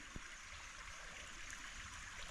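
Middle Creek flows beside a wooded trail in the Middlecreek Preserve, giving a steady, faint wash of running water that continues without a break and with no voices.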